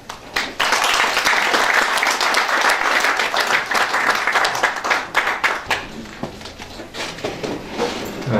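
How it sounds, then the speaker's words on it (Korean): Audience at a breakfast prayer meeting applauding to welcome a speaker, a loud dense burst of clapping that swells quickly, holds, then thins into scattered claps toward the end. "나오실 때 큰 박수로 맞으시기 바랍니다"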